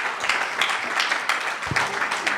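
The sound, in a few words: audience applause for the panel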